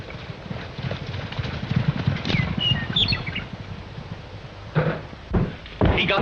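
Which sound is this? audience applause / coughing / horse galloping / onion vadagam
horse galloping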